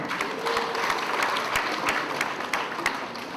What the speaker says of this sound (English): Let's clap for Nigeria.